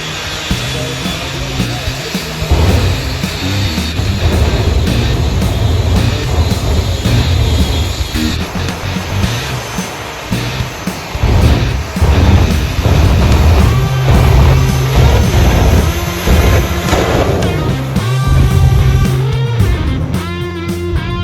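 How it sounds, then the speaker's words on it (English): A jet engine roars continuously from a VW bus at Santa Pod Raceway, a loud, dense whine and rumble that swells and eases over about twenty seconds. "a VW bus with a fucking jet engine"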